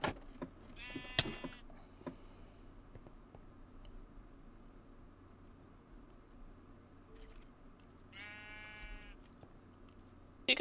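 Minecraft sheep bleating in a video game, two separate wavering bleats spaced several seconds apart over a quiet ambient background, no speech.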